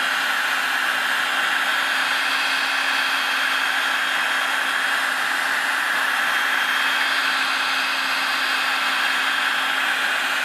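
A heat gun blows hot air steadily over car paint coated with a self-healing ceramic polymer protection layer, giving an unbroken, even, close-up whooshing hiss with no voices.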